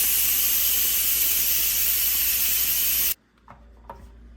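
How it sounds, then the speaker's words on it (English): An Instant Pot releases its steam in a loud, steady, close hiss that runs for about three seconds and then cuts off abruptly, leaving a quiet room with a couple of soft knocks. "My 30 minutes is up and I'm going to release the steam."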